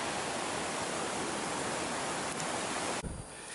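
Small forest waterfall at Lubuak Ngalauan on the Sungai Bangek in West Sumatra, a steady close broadband rush of falling water filling the whole stretch before dropping away slightly near the end.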